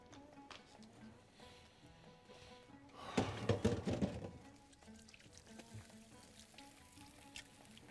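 Food hits hot oil in a shrimp and potato tagine dish and erupts into a sudden, close, crackling sizzle that settles into quieter spitting and popping, with soft kitchen clatter before it.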